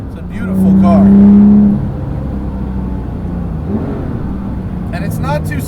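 A Porsche 997 GT3 RS 4.0 engine rises in a brief rev while driving, swelling loud then settling back into a steady cabin drone as voices talk over it.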